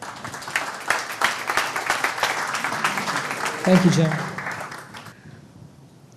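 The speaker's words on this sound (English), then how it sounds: "So let's give him a big round of applause" A morning CEO Cafe audience gives a speaker a round of applause, steady dense clapping that fades out after about five seconds, with a voice briefly speaking over it.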